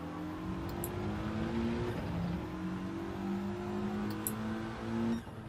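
A race car accelerating hard around Tsukuba Circuit in Gran Turismo 7, a steady close engine drone with rising and shifting pitch through gear changes, continuous throughout before easing off at the end.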